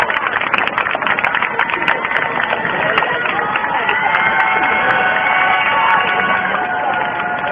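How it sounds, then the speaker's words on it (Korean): Outdoor crowd at a candlelight rally in Gwanghwamun, Seoul, applauding and cheering continuously to welcome student speakers, a dense wash of clapping with voices mixed in. "큰 박수로 맞이해 주십시오"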